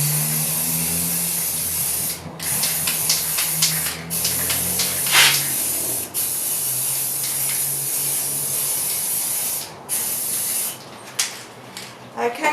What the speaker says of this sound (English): Spray the leaves.